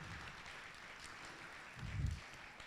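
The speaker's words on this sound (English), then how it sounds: "Please give them a round of applause because they are trailblazing." Audience applause at a postgraduate reception, a broad wash of clapping running throughout and swelling briefly near the end.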